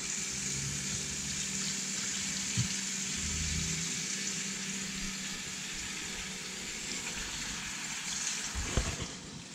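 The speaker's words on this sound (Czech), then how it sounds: "Teď si napustím znovu vodu." Tap water runs into a basin to rinse salted sausage casings during a home pig slaughter, a steady close rushing hiss with a few small knocks and no talk.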